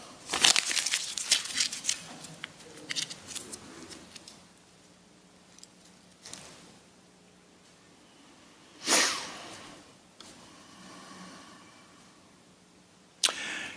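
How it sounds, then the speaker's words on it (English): Paper is torn and crumpled by hand, with bursts of crinkling and ripping, busy at first, then sparse, separated by quiet pauses and a few sharp rustles. "tear the paper into pieces or crumple the paper up"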